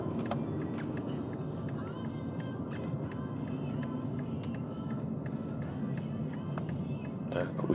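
A car's turn signal ticks in an even, steady rhythm during a driving lesson in an automatic car, the sharp clicks repeating over a low engine and road hum.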